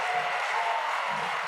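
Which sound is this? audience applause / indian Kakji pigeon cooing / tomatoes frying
audience applause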